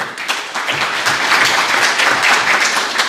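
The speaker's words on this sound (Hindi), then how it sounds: "इनके बच्चों के लिए भी एक दफ़ा भरपूर तालियां बजाएं" At an Urdu poetry and book launch gathering, the audience applauds for the children in a full, continuous round of clapping from many hands.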